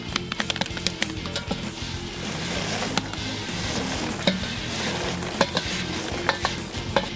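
Popcorn pops inside a pot as cherry and butter kernels cook, with sharp scattered taps and pops over a steady sizzling, stirring rattle, close and moderately loud.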